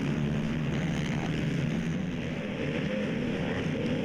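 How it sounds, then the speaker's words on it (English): Several 450cc ATV racing engines scream at high RPM during an ATV Nationals motocross race, a loud, continuous droning roar that holds steady throughout without breaks. "Listen to these engines just screaming at the high RPM"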